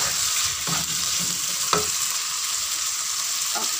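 Beef sizzles steadily in a hot pan, a dense hiss that runs the whole time, with a few soft scrapes as it is stirred and one brief louder clack partway through.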